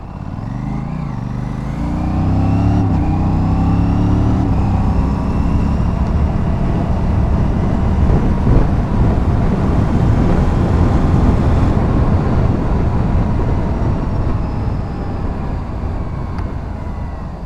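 An Aprilia RS 457 motorcycle rides along rural country roads near Kunigal, its engine droning steadily and loud for the whole stretch with shifting pitch as it accelerates, wind and road noise mixed in.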